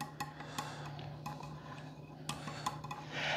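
A whisk clinks and taps rapidly against a bowl in a kitchen, producing faint, irregular metallic ticks over a low background hum.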